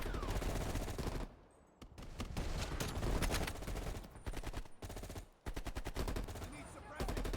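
Automatic gunfire in the video game Call of Duty Black Ops Cold War, loud sustained bursts of rapid shots with a few short pauses between volleys.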